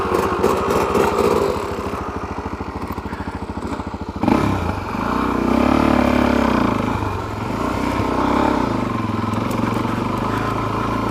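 A Suzuki DRZ400SM motorcycle engine idles just after a carburetor adjustment, its idle pulsing unevenly with a steady rapid thump at first, then a deeper, surging rumble that rises and falls over the remaining seconds.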